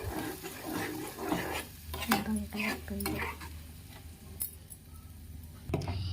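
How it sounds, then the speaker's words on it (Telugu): Eggs and salt being stirred together in a bowl, a soft scraping and clinking of utensil against dish over a low steady hum, with a brief voice partway through. "ఇప్పుడు మనం 3 ఎగ్స్ వేసుకుందామండి. కొంచెం సాల్ట్ వేసుకుందామండి. ఇప్పుడు మెల్లగా కలుపుకుందాం."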